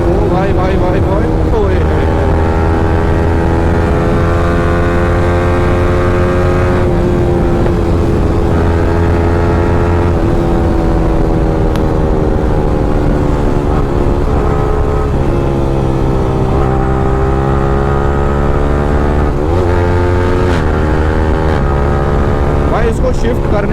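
A modified Yamaha R15 M motorcycle revs hard through the gears, its loud exhaust rising and dropping with each shift and crackling between, close and continuous while the rider talks over it.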